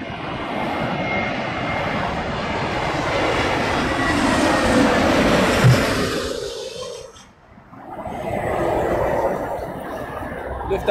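A Lufthansa airliner coming in to land in a strong crosswind during Storm Dennis, its engines giving a loud, steady broadband roar that fades briefly and then returns, mixed with wind.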